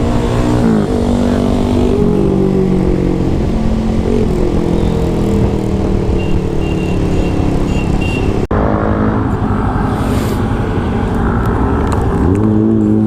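Motorcycles fitted with aftermarket mufflers rev and drone loudly on a road during a breakfast group ride, a steady, close engine roar with rising and falling throttle, heavy car traffic around them.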